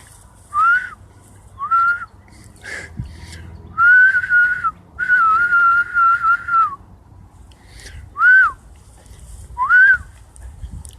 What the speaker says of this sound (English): And I'm going to do a whistle